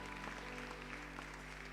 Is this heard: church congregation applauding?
yes